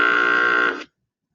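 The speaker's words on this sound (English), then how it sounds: "or a boat's horn" A boat's horn sounds one steady, sustained blast, loud and close, cutting off cleanly after under a second.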